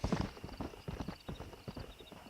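Horse hooves clip-clop in the Western video game Red Dead Redemption, a quick uneven patter of close, fairly soft hoofbeats that continues throughout, with a faint whinny and no clear talk.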